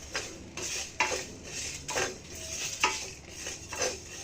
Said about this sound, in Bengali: মৌরি নিয়েছি এক টেবিল চামচ এটা একটু হালকা করে ভেজে নিব আর এখানে দিয়ে দিচ্ছি চারটা শুকনো মরিচ